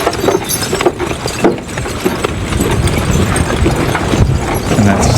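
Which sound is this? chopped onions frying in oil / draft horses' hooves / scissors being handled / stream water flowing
draft horses' hooves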